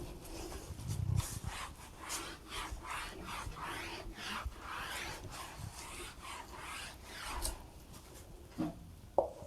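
An eraser rubs out writing on paper in a maths lesson, giving a steady run of close, dry rasping back-and-forth strokes with no talk over it.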